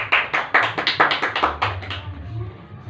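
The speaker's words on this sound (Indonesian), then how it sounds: "Tepuk tangan untuk kelompok 2." Elementary school class applauding a group in a science lesson: about a dozen sharp, rhythmic unison claps in quick succession, fairly close and loud, ending after two seconds into quieter room sound.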